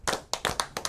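Hands clap in a quick, uneven run of about six or seven sharp claps, close and crisp, with no talking over them.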